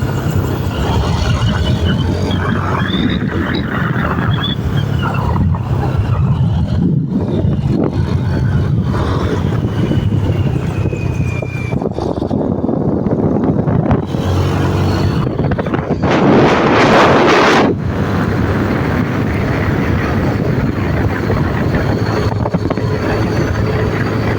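A boat motor drones steadily beneath heavy wind buffeting, with water rushing past and the engine pitch shifting slightly over time.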